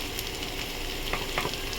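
Garlic fries together with potatoes in a pan, producing a steady close sizzle with a couple of light spatula scrapes, no voices present.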